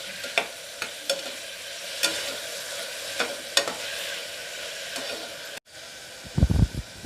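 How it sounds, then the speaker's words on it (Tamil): Green chilli and tomato sautéing in a pan for a country chicken curry, with steady soft sizzling and repeated stirring scrapes, then a brief gap followed by louder low clattering near the end. "இதையும் நல்லா வதக்கிடலாம்."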